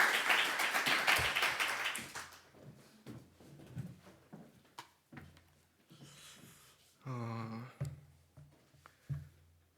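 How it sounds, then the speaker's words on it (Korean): A church congregation claps at a Sunday service as someone comes forward, with a burst of applause in the first two seconds that quickly dies away into quiet room sounds, shuffling and a brief hum. "자, 나올 때 우리 큰 박수 한번 부탁드리겠습니다."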